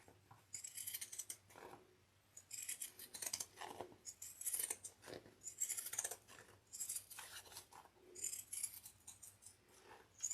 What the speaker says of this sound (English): this is where I do pinking shears because I want these curves to poke out.